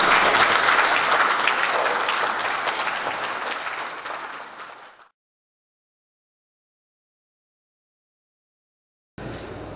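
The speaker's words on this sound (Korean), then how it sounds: "최병일 교수님께 우리 환영의 박수를 드리겠습니다" A lecture audience gives dense, steady welcoming applause for a professor, fading out over five seconds to silence before a brief return of sound at the end.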